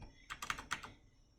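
A brief burst of typing on a computer keyboard: a handful of quick, soft key clicks close by, faint and alone.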